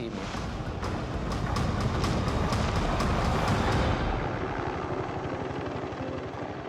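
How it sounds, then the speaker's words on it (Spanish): A helicopter drones loudly and steadily, its rotor thumping in a rapid, even beat that stays strong throughout. "podré hacer señales a ese helicóptero que oigo a lo lejos"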